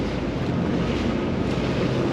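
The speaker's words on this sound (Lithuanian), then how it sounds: "Čia labai vėjas." Strong wind buffets a small ferry, producing a constant, loud roaring rush with microphone buffeting and water noise beneath, and no speech.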